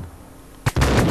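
Gunfire in the video game Max Payne: a sharp shot bursts in after a brief quiet stretch, followed by loud sustained rapid firing close up.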